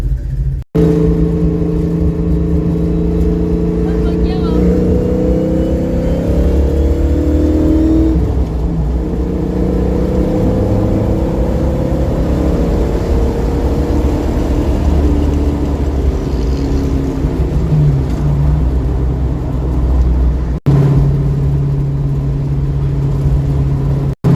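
A steady, loud engine drone fills the cabin of a manual-transmission car, low and continuous with slight shifts in pitch as the vehicle keeps moving.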